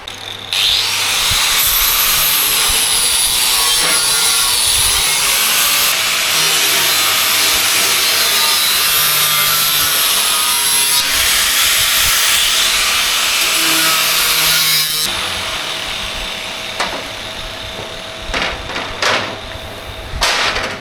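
A power tool trims the edges of cast deck panels for a DIY Barra boat deck, a loud sustained high whine that keeps cutting for about fifteen seconds, then gives way to lighter handling clatter.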